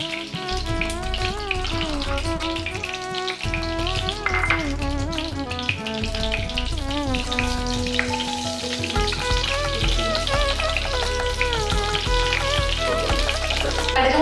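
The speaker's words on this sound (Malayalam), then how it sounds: "ചൂടായിട്ട് നമുക്ക് കടുക് പൊട്ടിക്കാം." Mustard seeds splutter in hot coconut oil, giving a continuous sizzle with small crackling pops that sit beneath prominent background music throughout.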